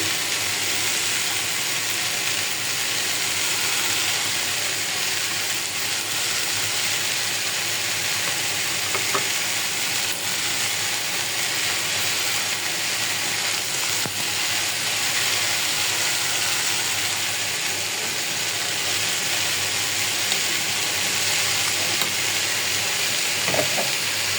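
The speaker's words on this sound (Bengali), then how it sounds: "আমি একদম ভালো করে লাল করে মাছগুলো ভাজিয়ে রাখছি" Fish pieces fry in hot oil until reddish-brown, giving a loud, steady, unbroken sizzle that holds evenly from start to finish, close to the pan, with no one speaking.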